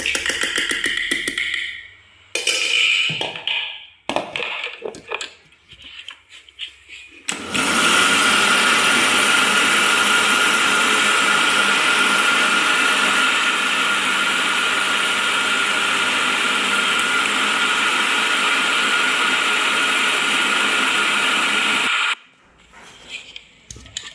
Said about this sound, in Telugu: మళ్ళీ మిక్సీ పట్టాలి.